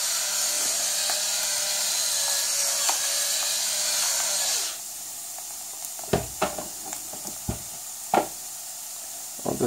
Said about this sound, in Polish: Damy odrobinę pieprzu.